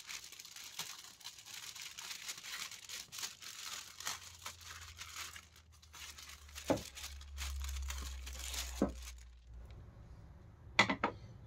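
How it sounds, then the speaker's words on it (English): Scissors cut open the plastic and cardboard packaging of a delivered box holding a Land Rover Defender D90 model, with soft crinkling and tearing broken by a few sharp snips and clicks near the end. "Start off with scissors, see how far these can take us."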